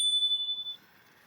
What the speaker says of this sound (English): There's a bell. It's going to be pretty loud.